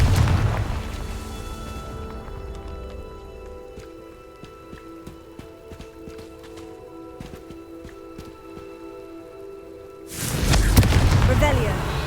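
Confringo blasting-spell explosions in a video game: a loud, close burst opens the clip and fades into a humming lull, then a second forceful blast erupts near the end, with a voice calling out around the blasts.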